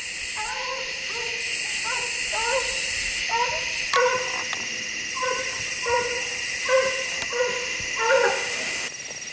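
A coonhound runs at night, baying in the distance. Repeated short, tonal bawls come in uneven bursts over a constant background hiss and static.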